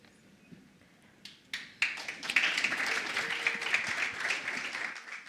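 A conference audience at the Standard Bank Top Women EmpowHER event in Gauteng starts with scattered faint claps, then breaks into sustained, fairly loud applause that holds steady to the end.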